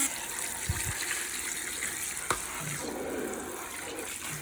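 Water runs from a tap to rinse out a fishing tackle tray, a faint steady splash and gush with a couple of soft knocks and clatters.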